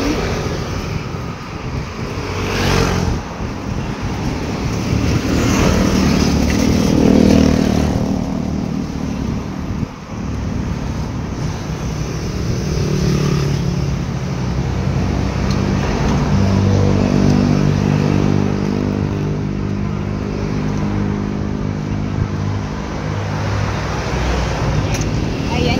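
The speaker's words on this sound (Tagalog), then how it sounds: "Tatawid tayo dyan mamaya. Dami sasakyan man." Dense road traffic streams past with many cars and motorcycles, a continuous roar of engines and tires close by. Voices talk over it now and then.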